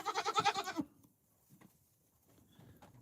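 A goat on a farm bleats loudly in a rapid, wavering cry that lasts under a second, followed by quieter rustling and faint shuffling sounds.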